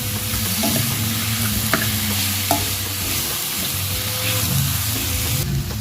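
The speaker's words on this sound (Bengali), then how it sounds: "এবার সিদ্ধ করা কচু ডাঁটাগুলো দিয়ে দেবো। দিয়ে ভালো করে মিশিয়ে দিতে হবে।" Boiled taro stems are stir-fried with spices in a pan, giving a steady loud sizzle with a spatula scraping and stirring, a couple of sharper knocks against the pan, and no talking.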